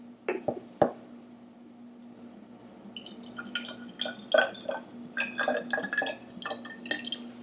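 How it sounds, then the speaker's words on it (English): Hydrogen peroxide is poured into a container, heard as faint drips and splashes that quicken into a scattered patter of liquid against glass, quiet and close over a steady low hum. "When you pour, first you're going to put the hydrogen peroxide in it."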